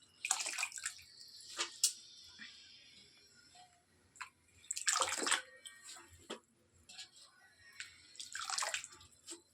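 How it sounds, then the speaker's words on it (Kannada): Water drains off freshly washed leafy greens being rinsed for a Mandya-style curry, coming as close, splashy bursts of pouring and dripping separated by quiet pauses. "ಈ ಥರ ನೀರು ಸೋಸಬೇಕು"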